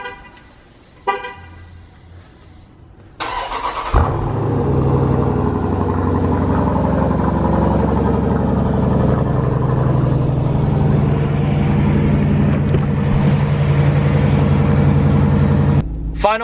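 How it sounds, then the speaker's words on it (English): A 475HP Dodge Durango SRT cold-starts after a couple of short chirps, the engine catching with a loud burst and then settling into a strong, steady idle rumble close by until it cuts off. "One more cold start."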